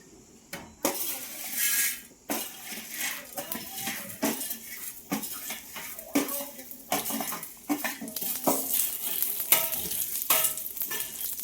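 Black masala spices being stirred and roasted in a pan for shev bhaji, a spoon scraping steadily against the metal in irregular strokes over a soft sizzle, close and fairly loud, with no talking.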